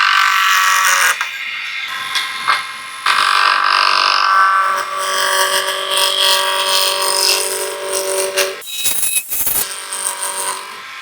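Wood lathe with worn bearings turning a piece of Amboyna burl, giving a loud, rough, high-pitched whine and rattle that runs continuously, briefly dropping out and then returning near the end.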